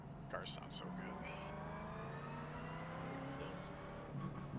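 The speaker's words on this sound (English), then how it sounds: "Car sounds so good." A Ford Mustang GT4 race car in the iRacing simulator drones steadily on track, its engine tone shifting gradually as speech comes and goes over it.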